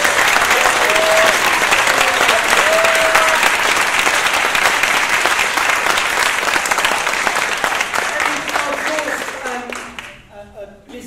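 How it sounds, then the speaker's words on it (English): A school audience applauds pupils after a chamber concert, with loud, sustained clapping, a few voices and cheers mixed in, that fades toward the end. "So a huge round of applause."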